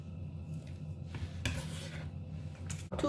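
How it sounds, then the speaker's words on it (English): A knife thinly slicing a shallot on a board: soft, faint rasping cuts with a few light taps, close but quiet. "We have 1 shallot, and we're going to slice it thinly"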